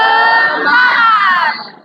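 A classroom of students chants the 'tepuk semangat' cheer in unison, a brief, loud burst of many young voices close by that fades out at the end.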